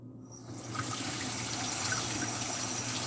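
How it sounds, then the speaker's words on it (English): Running tap water pours steadily into a kitchen sink while a knife is rinsed, starting abruptly and continuing as a constant, fairly loud wash with no talking. "Just gonna rinse a knife off."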